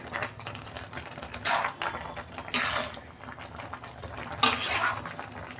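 Boiled taro leaves with a hilsa fish head being stirred in a pot, giving irregular scraping and clinking of a utensil against metal, with a few louder bursts, fairly close and without any talk.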